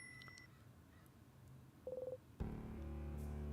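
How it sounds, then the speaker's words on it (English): A phone hangs up in the video game In Stars and Time: a short burst of beeping tones, then a sudden click into a louder, steady electronic drone, all fairly quiet and with no talking. "Hangs up the phone."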